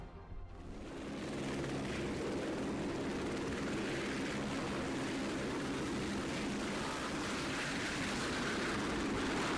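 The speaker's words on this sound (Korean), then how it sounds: "헬기도 동원됐다." Helicopter flying during a mountain search in the Annapurna region: a steady engine and rotor drone that swells in within the first second and holds loud and continuous, with no voices.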